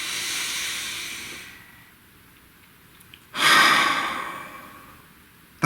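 One long, slow exhale followed by a deep audible inhale and then a breathy release, close to the microphone and fairly loud, with no talking.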